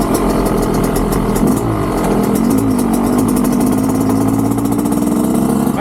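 A 2-stroke dirt bike engine running loud and close, a continuous buzzy rattling drone with slight rises and dips in pitch, no voices.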